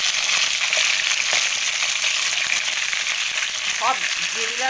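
Potatoes and eggplant sizzling in hot oil for a dried fish curry, a loud, steady frying hiss that fills the whole stretch, with faint stirring scrapes and a brief squeak toward the end.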